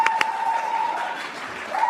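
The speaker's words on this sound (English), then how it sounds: "Look at who are these two? Who are these two? They're clapping up a storm." An audience applauds softly in a brief, fairly faint burst of clapping, with a steady electronic tone running underneath.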